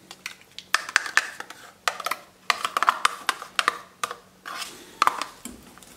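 Beaten eggs being mixed into chocolate in a bowl with a utensil, giving close, rhythmic scraping and knocking strokes in short irregular bursts with brief pauses.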